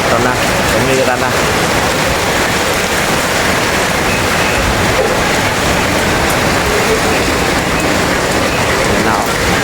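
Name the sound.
heavy rain and strong wind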